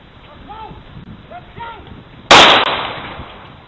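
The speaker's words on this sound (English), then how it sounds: "one camera picked up the sound of gunfire." A gunshot picked up by a neighborhood security camera, one sharp loud crack with a brief decaying tail following a few seconds of faint, muffled background talk.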